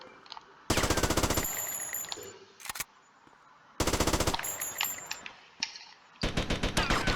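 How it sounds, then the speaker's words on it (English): Characters shooting each other in GTA Vice City: loud, close bursts of rapid automatic gunfire in several separate volleys, with brief quieter gaps of ambient game noise between them. "I love the they start shooting each other really."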